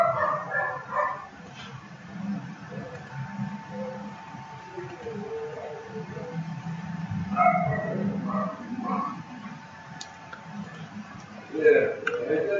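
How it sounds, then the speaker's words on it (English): Small dog yipping and barking in short bursts in the background of a home, under a person talking over game music. "my dog's barking"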